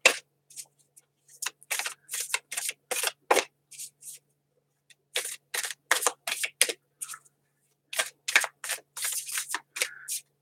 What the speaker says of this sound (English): So let's just start by shuffling.